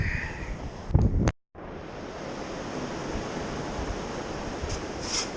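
Strong wind roars across a beach, a steady close microphone-buffeting rush with a brief handling thump and dropout early on, then continuous blustery noise with no voices.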